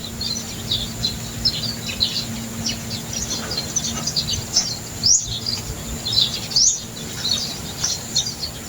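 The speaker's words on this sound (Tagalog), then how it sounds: "Puro tunog ng ibon pag ganitong mga oras" Birds chirp and tweet in quick, scattered calls over a steady outdoor background hum, with a few sharp rising whistles standing out.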